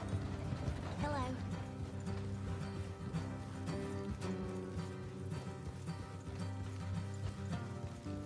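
Horses walk in Red Dead Redemption 2, their hooves clip-clopping in a steady rhythm beneath a loud, continuous musical score that dominates throughout.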